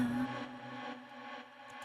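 A sustained, airy synth pad with a long reverberant wash, steady and smooth, fading slightly toward the end with a faint click.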